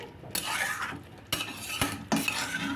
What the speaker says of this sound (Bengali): ভালো করে মিশিয়ে নেব মশলাগুলোর সাথে পনিরটাকে